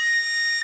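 A recorder blown too hard lets out a single harsh, shrill high note, loud and piercing, held steadily for under a second before cutting off abruptly.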